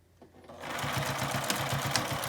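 A sewing machine stitches a cloth tote bag, starting after a brief quiet moment, then running in a steady, even, rapid clatter, close and continuous with no talking.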